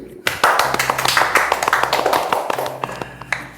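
A burst of hand clapping, quick irregular claps from several people lasting a few seconds, fairly close and loud before tapering off, with voices audible underneath.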